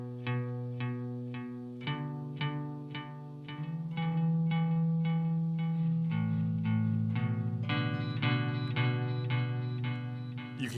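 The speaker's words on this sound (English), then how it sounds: "you're getting that echo to be just as loud as the actual playing itself" Electric guitar through an EarthQuaker Devices Silos delay pedal, evenly repeating picked notes with echoes set almost as loud as the playing, a steady pulsing pattern that shifts chords midway and continues with no talk.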